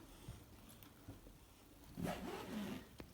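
A suitcase zipper being pulled open, with faint, soft rasping bursts in the second half over a quiet room background.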